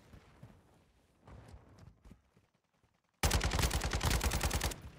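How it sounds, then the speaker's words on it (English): Gunfire crackles in Call of Duty: Modern Warfare II. Quiet, scattered distant pops give way to a sudden loud, sustained burst of rapid automatic shots that lasts to the end. "Look at him shooting at people once again."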